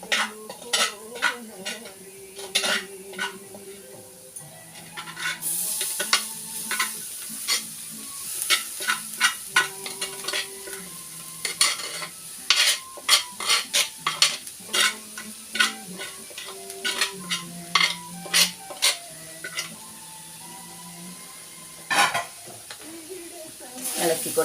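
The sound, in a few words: stirring and frying masala with cooked clam meat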